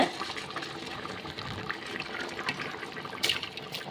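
Water bubbling and churning in a pot before rice is added, a soft continuous rolling boil with occasional splashy pops, close by and fairly quiet.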